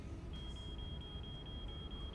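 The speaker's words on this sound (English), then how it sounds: "That's the smoke alarm from my office." A thin, high electronic smoke alarm beep repeats at a steady quick pace, faint over a low rumbling background.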